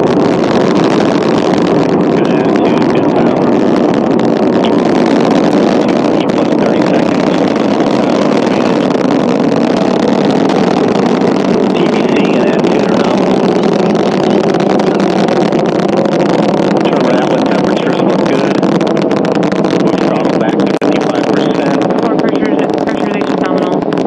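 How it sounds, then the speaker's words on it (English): Antares rocket carrying the SS Gene Cernan cargo craft lifting off toward the International Space Station, a loud continuous broadband roar that holds steady throughout, with wind buffeting and a voice talking over it. "Liftoff confirmed. Antares and the SS Gene Cernan now bound for the International Space Station."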